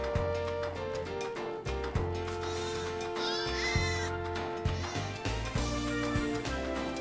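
Bleating cries from a creature resembling a rat, horned demon and sheep in Grandia II rise over steady background music with low thumping beats.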